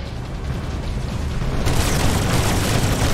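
A lava mine explodes in the shooter game Mothergunship, giving a deep, rolling booming rumble that swells louder partway through and keeps roaring to the end.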